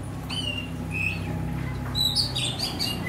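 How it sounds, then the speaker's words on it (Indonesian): Rainbow lorikeet giving short, sharp chirps and whistled calls at bath time, a few scattered notes over a steady low hum, moderately near. "Kembali kami hadir bersama Nuri Pelangi"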